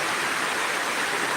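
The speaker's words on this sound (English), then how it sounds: "Thank God, oh, the rain is going down." Steady rain falling, a dense, even hiss of broadband noise with no pauses, fairly loud and close, no voices.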